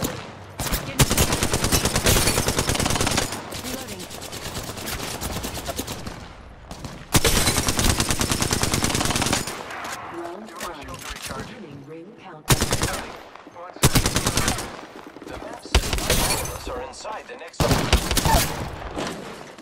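Video game firefight with bursts of rapid automatic gunfire, loud and close, cut by short pauses for reloading, alongside occasional game voice callouts.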